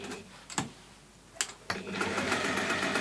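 Sewing machine top stitching a clutch bag, a few isolated clicks and thumps before the motor runs into a steady, close, rapid stitching whirr.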